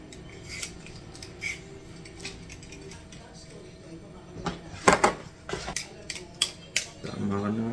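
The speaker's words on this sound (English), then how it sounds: "Next, we're gonna peel potato." Potato being peeled by hand during seafood chowder prep, a series of short scraping and clicking strokes, irregular and close, getting busier toward the end, with faint speech in the background.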